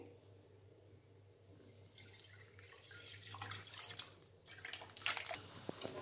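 Full fat milk is poured from a container into a pan for making khoya, a quiet drip that swells into a trickling, splashing stream that grows louder toward the end.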